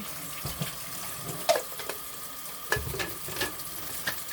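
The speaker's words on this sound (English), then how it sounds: "I'm just flipping the pork chops over. It's actually deglazing the pan." Pork chops frying in a pan as it is deglazed, a quiet kitchen sizzle with running water beneath and a few sharp clinks and scrapes of utensils against the pan.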